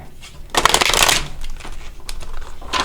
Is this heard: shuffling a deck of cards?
yes